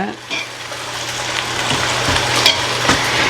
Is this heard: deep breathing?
no